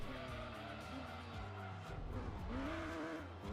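A race car in Gran Turismo 2 revs and accelerates with a steady, sustained engine drone, its pitch sweeping up and down through gear changes, with a brief tire squeal.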